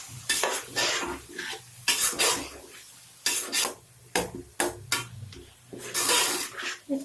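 Qeema karela, bitter gourd with minced meat masala, frying in a pan; loud, intermittent scraping stirs come in bursts over a crackling sizzle, up close with no talk.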